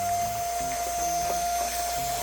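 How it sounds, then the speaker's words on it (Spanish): Cheap Temu vacuum cleaner running steadily as it sucks up dust, a constant whine with a strong steady tone and faint rattling underneath, close and continuous. "Pero sí está aspirando el polvo decentemente, podría decirlo"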